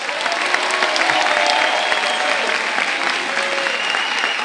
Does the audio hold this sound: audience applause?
yes